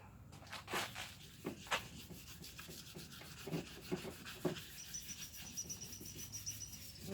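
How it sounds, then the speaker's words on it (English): Wet sanding of plastic motorcycle parts with 320 grit sandpaper, a quiet scratchy rubbing with irregular short strokes and faint background chirps. "You want to start off with 320 grit wet sand. Just kind of scuff it up."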